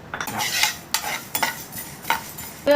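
Mustard and fenugreek seeds rattle and scrape in a dry pan as they are roasted and stirred, with a few sharp clinks of a utensil and a light crackle.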